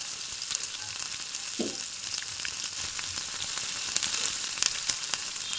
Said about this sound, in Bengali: এবার সেই মাছ ভাজা তেলে 1 চিমটে কালো জিরে ফোড়ন দিয়ে তাতে কেটে রাখা পেঁয়াজগুলো দিয়ে দিতে হবে